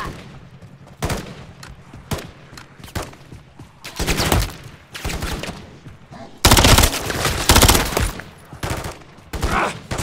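Bursts of automatic gunfire in Call of Duty Modern Warfare III zombie mode, with short sharp shots and longer loud rattling volleys separated by quieter gaps, near and intense.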